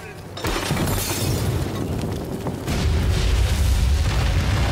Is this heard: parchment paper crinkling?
no